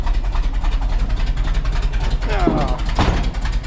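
An old vehicle engine idles while warming up after a barn clean-out, giving a low, steady pulsing rumble throughout, with someone talking over it.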